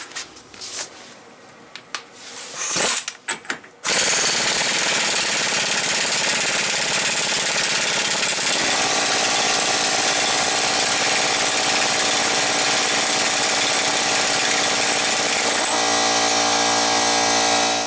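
A few brief knocks and clatters come first, then a power tool bursts into a loud, continuous, steady whine while loosening the wheel hub nut on a Chevy Impala. The motor drone runs without a break to the end.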